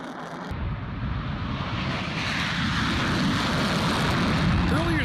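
A B-1B Lancer bomber flies overhead with a loud, broad jet roar that swells after a quiet first half-second and stays heavy and sustained to the end, its pitch sweeping as it passes.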